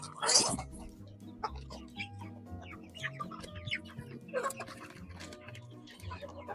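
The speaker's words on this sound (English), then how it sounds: "the roosters, are doing their typical quabbling" Chickens and roosters squabble around a feeder pan in a backyard flock, with scattered clucks and short calls near and far, a loud squawk at the start, then lighter chatter throughout.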